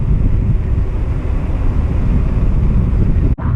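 Steady wind rush buffets the microphone while riding a Varla Eagle One electric scooter, a loud continuous roar with no motor whine, cut by a brief dropout near the end.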